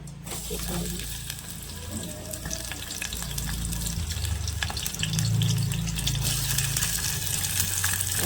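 Onion, green chillies and tomato fry for chutney in hot oil, a continuous close sizzle with steady hissing and light stirring, growing slightly louder toward the end, with no talking.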